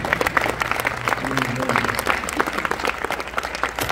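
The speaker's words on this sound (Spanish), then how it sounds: "Dense un aplauso, hermanos. So give yourselves a hand." A congregation at a church congress applauds, a steady crowd of hands clapping for several seconds, loud and close, with voices talking over it.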